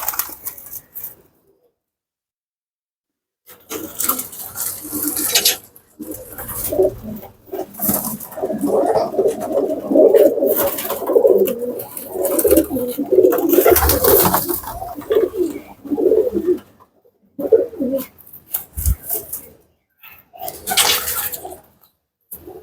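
Throaty pigeon cooing comes in bursts close by, with gaps of silence and some splashy, watery noise mixed in.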